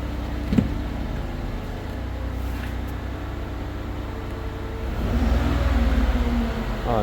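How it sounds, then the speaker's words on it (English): A 2011 Ford Escape's 3.0 engine drones steadily at idle in an enclosed space, then swells louder as it is revved near the end; one faint click early on. "I'm going to rev it up."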